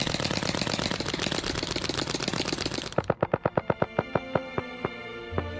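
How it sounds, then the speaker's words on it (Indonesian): Paintball guns fire in rapid bursts of popping, a dense volley followed by a slower string of distinct sharp shots fading out. "Jimmy, kami punya pistol paintball dan bakal nembakin nisan kamu."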